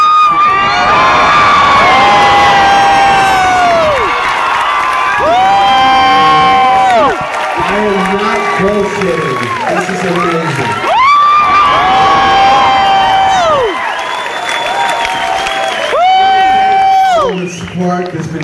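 A large concert crowd in Warsaw roars and cheers continuously, with whoops and high shouts rising in waves, loud and close throughout, dipping briefly before swelling again.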